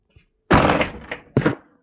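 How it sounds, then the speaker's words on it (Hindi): A door in a room where pets are kept is pushed shut with a firm close thunk, followed a moment later by a second, shorter knock as it settles. "दरवाज़ा बंद करते हैं"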